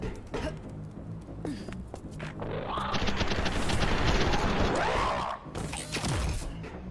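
Rapid SMG gunfire from the shooter game Sprawl, dense continuous bursts that swell loud through the middle of the stretch, with shot impacts and crashes layered over game ambience.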